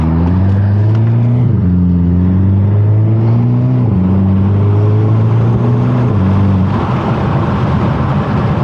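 A Hyundai Kona N in full N mode accelerates hard, its engine note climbing steadily through several gears with brief dips at each shift, loud and close from inside the cabin, with road roar growing near the end.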